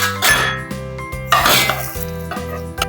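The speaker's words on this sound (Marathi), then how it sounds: "आपण एका ताटामध्ये काढून घेऊ" Veg nugget mixture scraped from a metal pan onto a plate, with repeated loud utensil clinks and scrapes against steel in short bursts, close up with a steady low hum underneath.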